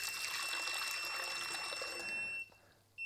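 A low-water sensor alarm on a cheap tabletop hydroponic system emits a steady, high-pitched electronic whine over rushing, trickling water, then cuts out abruptly near the end.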